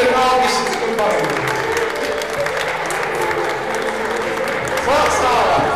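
A concert audience applauds loudly and steadily, a dense wash of clapping that swells near the end while a voice speaks over it.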